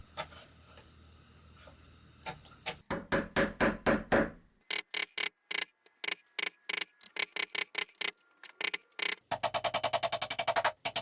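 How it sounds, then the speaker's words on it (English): A chisel chops a mortise in wood in the workshop, giving sharp knocks in irregular bursts of strikes, close and alone, ending in a fast run of quicker taps. "I chopped it just like I would a normal mortise"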